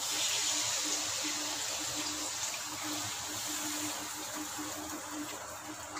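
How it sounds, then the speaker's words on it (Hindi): Water poured into a pan of bitter gourd cooking with spices in a Bihari village kitchen, a soft continuous splashing gush that stays steady and fairly faint from start to finish. "अब मैं इसमें ऐड कर रही हूँ पानी"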